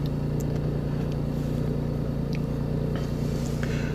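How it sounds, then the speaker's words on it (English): A BMW i8's engine runs steadily just after start-up, a continuous low hum with an even drone throughout and no voices. "So at this point, I'm actually hearing engine noise, which is good. It means it's running."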